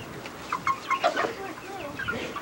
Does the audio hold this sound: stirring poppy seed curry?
no